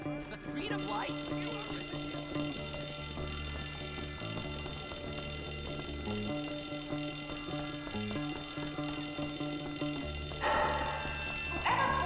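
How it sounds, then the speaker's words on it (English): In the Bully Scholarship Edition video game, a fire alarm rings on and on as a steady high electronic tone, with game sounds and thumps beneath it and a brief burst of noise near the end. "Whoever pulls that fire alarm, you're going to burn in hell."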